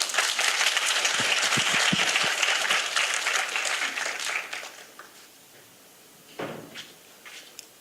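At an English talk concert in Daegu, an audience gives a round of dense applause that fades away after several seconds, leaving a quiet room with a few scattered knocks and a stray clap.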